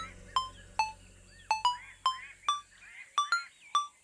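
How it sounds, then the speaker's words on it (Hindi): An incoming call sets a phone ringing with about ten short, chirpy electronic tones in quick, uneven bursts, fairly soft and heard on their own. "मम्मी का फोन है"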